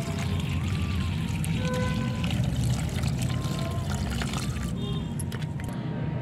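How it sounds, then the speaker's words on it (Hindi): Homemade pesticide liquid from turmeric, aloe vera and neem leaves pours steadily through a strainer, a constant close-up splashing trickle with faint clinks throughout. "छन्नी से छान लेंगे।"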